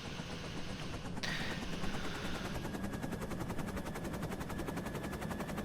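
A small helicopter in the video game EmergeNYC, used for wildfire fighting, chops steadily throughout, a dense rhythmic thumping layered with a rattling mechanical whir, loud and close with no voices.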